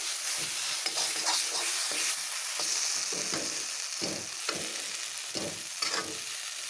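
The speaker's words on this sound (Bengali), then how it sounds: "কষিয়ে নিচ্ছি ভালো করে একদম শুকিয়ে নেবো" Pointed gourd (potol) curry sautés in a pan until dry, with a continuous close sizzle broken by repeated stirring and scraping strokes.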